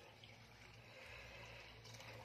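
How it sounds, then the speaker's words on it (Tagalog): Water poured into hotcake batter mix, a soft continuous trickling and splashing of liquid, faint and steady throughout. "Lagyan mo ng konting tubig, ate."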